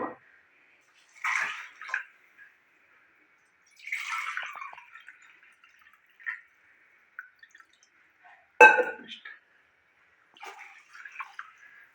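Water poured into a pot of ration rice for vegetable pulao in a home kitchen, coming as several short splashing pours and drips separated by quiet gaps, close and fairly soft.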